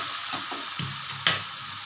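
Spice paste hits hot oil in a pan while cooking khichuri with mung dal and broken wheat, giving a steady broad sizzle with a few sharper bursts and stirring scrapes, close and alone.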